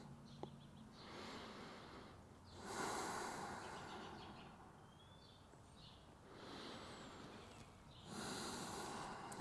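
Slow, deep belly breaths during a mobility stretch, each long airy inhale or exhale swelling and fading in turn, close and soft, with about three full breaths and no talking.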